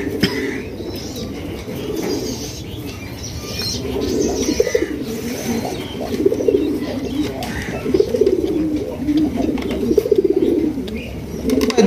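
A pair of red king pigeons coo repeatedly in soft, low throaty phrases, with occasional wing flutters and faint background bird chatter, close and steady throughout.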